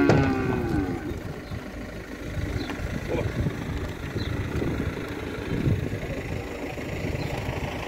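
Cattle at a livestock fair in Ceará give low, drawn-out moos amid dense crowd murmur and idling engine noise, with an auctioneer's voice faintly in the background.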